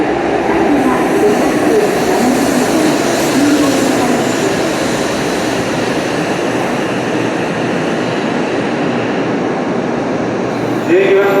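Kyushu Shinkansen Sakura train pulling into Kumamoto Station, a steady loud rumble and whine of the arriving cars filling the platform, with faint announcement tones and murmur in the background.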